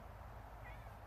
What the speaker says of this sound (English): the cat says hi.